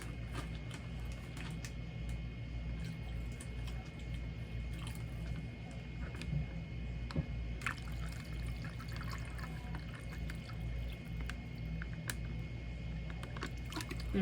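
Water pours into a plastic MRE bag in a steady, continuous stream with light squishing and crinkles of the pouch, close and fairly quiet over a constant low hum, no talking.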